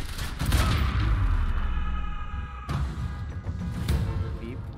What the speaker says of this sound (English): I'm getting reports of gunfire in the underground parking.